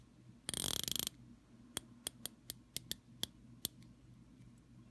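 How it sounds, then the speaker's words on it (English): Rotating bezel on a Luxmento Naylamp Rescue II watch turned by hand, a quick burst of rapid ratcheting followed by about nine firm, separate clicks at an uneven pace, close and quiet. "now you could see a little bit of play, but not much, and nice firm clicks here"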